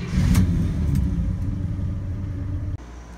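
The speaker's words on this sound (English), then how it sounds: "we're going to start our car and let it warm up to operating temperature" A car engine runs steadily while warming up to operating temperature before ignition timing is set, a close, loud low rumble that holds for about three seconds and then abruptly drops to a quieter idle.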